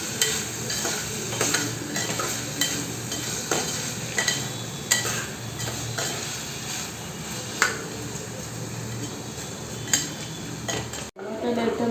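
Tomatoes cooking down with salt in a pan sizzle softly and steadily as a spoon stirs and scrapes them, with light regular clinks against the metal and no talking.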